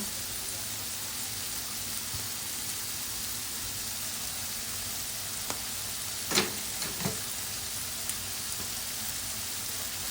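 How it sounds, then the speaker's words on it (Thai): Food fries in a pan with oyster sauce, a steady hissing sizzle throughout, broken by a couple of brief clatters from stirring near the middle. "น้ำมันหอย เอาเจียวนิดหน่อยนะคะ"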